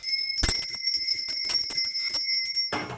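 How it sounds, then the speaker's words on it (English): A small hand bell rung a few times indoors, each strike giving a bright, sustained metallic ring with high steady overtones that hang on between strokes, close and loud with no speech. "Oh, just realised I have not rung my bell. I'm going to ring this now."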